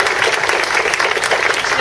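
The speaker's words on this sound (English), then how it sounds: "so please, a round of applause for Janae." A conference audience at a regional business event in Kansas gives a steady round of applause, dense continuous clapping filling the room with no talk over it.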